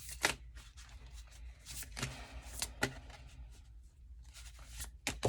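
Tarot cards are shuffled close up in a quiet room, a series of quick, soft riffling and slapping bursts with short pauses between them.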